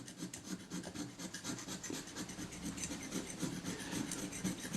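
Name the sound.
scraping old glue and corrosion off camera body with scalpel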